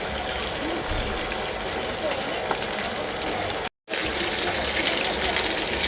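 Hilsa fish frying in a pan with a continuous crackling sizzle that stays loud and close, broken only by a brief dropout of silence partway through.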